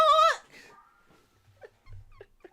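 A dog gives one short, sharp bark, then a few faint whimpering sounds follow at close range.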